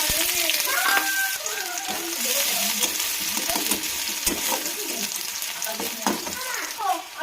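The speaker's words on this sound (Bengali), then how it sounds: "তেল গরম হয়ে গেছে, এবার দিয়ে দেবো জিরে, দিয়ে দেবো কুচিয়ে রাখা পেঁয়াজ," Cumin seeds and chopped onion sizzle in hot oil in a pan. A steady frying hiss with stirring scrapes runs throughout, and a voice speaks faintly beneath it.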